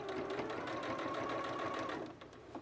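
Sewing machine running steadily while top stitching a quilted, self-binding table cloth with extra batting, a close, continuous mechanical whir lasting about two seconds before slowing and stopping.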